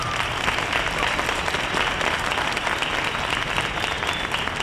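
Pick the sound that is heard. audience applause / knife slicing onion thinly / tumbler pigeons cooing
audience applause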